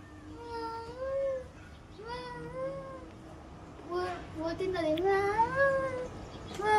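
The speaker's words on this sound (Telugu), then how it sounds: "పిల్లి పిల్లలు బయట అరుస్తున్నాయి" Kittens meowing outdoors in the middle of the night, a string of rising, wavering mews that grow more frequent and overlap toward the end, close and fairly loud.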